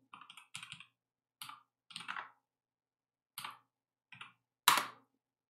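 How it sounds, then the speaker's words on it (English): A computer keyboard typed on in a quiet room: short separate bursts of clicky keystrokes with silent gaps between them and one louder final tap, with no voices. "I can't really type and talk at the same time"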